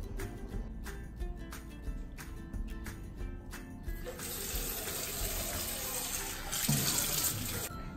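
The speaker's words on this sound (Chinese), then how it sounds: "首先呢，我们要将我们的橙给洗干净" Oranges are washed under a running kitchen tap. Water splashes steadily throughout, with a clunk or two of handling early on, and a louder, fuller gush from about four seconds as the flow increases.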